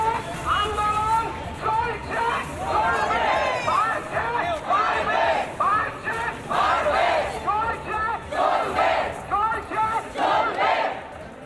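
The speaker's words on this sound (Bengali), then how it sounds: "একদিকে মিছিল শুরু হয়েছে, জুনিয়র চিকিৎসকেরা স্লোগান দিচ্ছে" A street protest march of junior doctors after the R G Kar case, the crowd chanting slogans in rhythmic repeated bursts, loud and close, with reporting speech mixed in.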